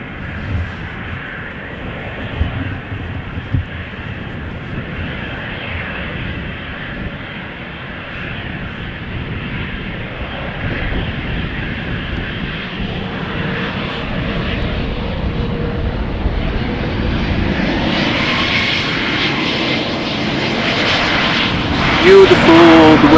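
An Embraer jet airliner departs from runway 36L at Amsterdam Schiphol, its broadband engine roar building steadily and growing louder toward the end, with people talking over it.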